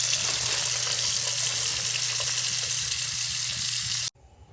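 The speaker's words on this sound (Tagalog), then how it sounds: "Lagyan natin ng tubig." Water pours steadily into a cooking pot to be brought to a boil, a loud continuous rushing splash that runs without a break and then cuts off sharply near the end, with no voices.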